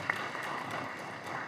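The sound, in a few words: applause at a court meeting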